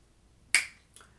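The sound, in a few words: finger snapping eighth notes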